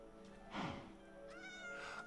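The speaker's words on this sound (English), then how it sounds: "I just heard a kitty." A cat in Minecraft meows once, fairly close, then a second drawn-out meow follows over a steady background hum.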